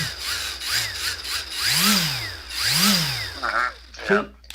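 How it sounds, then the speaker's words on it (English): A variable-speed buffer running at high speed, up to 1500 RPM, its motor whine rising and falling in repeated swells, loud and close. "So that was high speed there. It'll do 1500 RPM."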